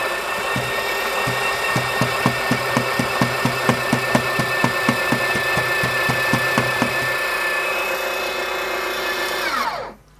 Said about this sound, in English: I'll do a reactivate the grinder again.